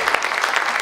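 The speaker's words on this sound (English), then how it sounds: "And Mike, give him a sort of a golf clap" Audience gives a brief, polite golf clap: a short spatter of light, fast claps lasting under a second, close and moderately loud.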